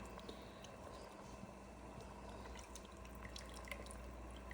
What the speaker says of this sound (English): all we're gonna do is drop it in, give it a little shock